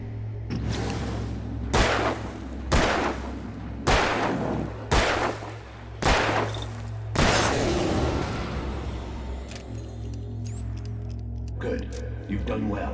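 Gunshots in the horror game Alan Wake ring out about six times at a steady, roughly one-second rhythm, each a loud sharp crack with a ringing tail, over a low droning background.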